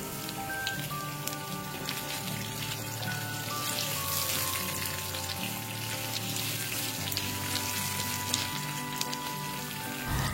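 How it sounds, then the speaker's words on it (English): Carrot fingers stir-fry with garlic and chilies in hot oil, a steady, dense sizzle that crackles evenly throughout with no talking. "You add the carrots after that and stir fry the same."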